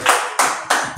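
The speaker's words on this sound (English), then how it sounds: "Praise God, just clap for me." A church audience claps in three quick bursts during a sermon, the dense clapping close and fairly loud, each burst fading before the next begins, with no talking over it.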